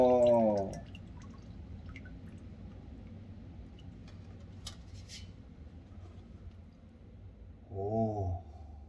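Dirty water drains out of a leaking well tank in a basement. A steady, low, close trickle runs the whole time, with louder gurgling surges at the start and again near the end.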